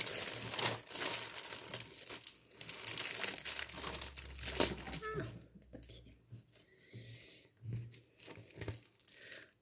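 Crinkly plastic packaging for a diamond painting kit being opened by hand, with rustling and tearing in bursts close by, while someone talks intermittently.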